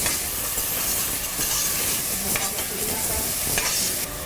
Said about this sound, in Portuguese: Com os temperos tudo refogado, agora a gente acrescenta a costela. Mexe bem